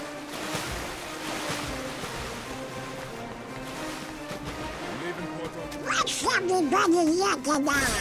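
Rolling water waves at Port Royal in the Kingdom Hearts III video game, a steady wash of surf with tonal game sounds layered in, while people talk over it.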